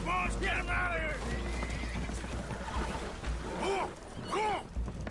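Spooked horses aboard a leaking boat in the video game Red Dead Redemption 2 whinny in shrill, wavering bursts over a low rumbling water and engine bed, with voices talking at moments.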